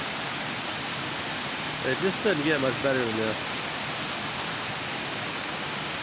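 Falling Water Falls in the Arkansas Ozarks gives a steady, broad rushing roar, with someone speaking briefly over the water noise partway through.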